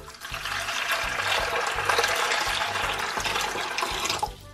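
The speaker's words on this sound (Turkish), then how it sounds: "İçine su dolduralım." Water pours steadily into a plastic half-sphere mold for a bath bomb, a loud continuous splashing fill that runs without talk and stops abruptly near the end.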